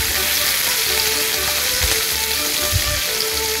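Lamb meat frying in a pan, a steady close sizzle with crackling and faint spitting bursts, continuous with no voices.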